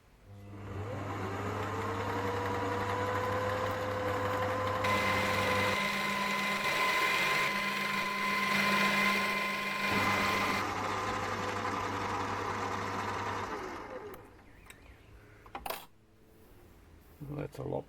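A metal lathe turns the spindle of a modified Gingery dividing head, a close steady motor whine with a low hum that holds for about thirteen seconds and then winds down, followed by a few faint clinks and knocks.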